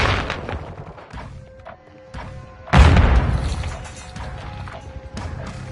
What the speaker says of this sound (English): Throwing flash!